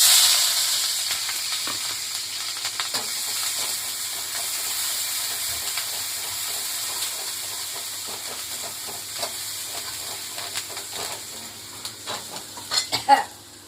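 Crushed ginger and garlic fry in about two small spoons of hot oil, sizzling loudly at first, then settling into a softer hiss with growing pops and a few metallic spoon-on-pan clinks near the end.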